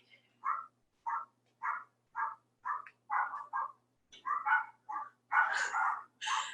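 Dogs bark in a rapid series of about a dozen sharp yaps, fairly near and growing louder and more excited toward the end, with no talk over them.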